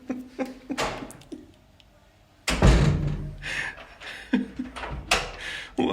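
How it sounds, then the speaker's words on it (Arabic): A bathroom door in a home thuds shut with a loud knock around the middle of the clip, preceded by soft footsteps and quiet voices, with people talking afterward. "وقفل الباب على حاله كمان مشان يطلع جوا"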